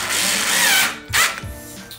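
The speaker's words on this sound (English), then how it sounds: "I'm just going to speed this up by using a little electric screwdriver" A small electric screwdriver drives screws into an Ooni modular table, a loud close whirring motor that runs for about a second, cuts out, then briefly whines again.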